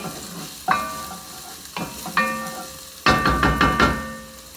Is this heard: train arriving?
no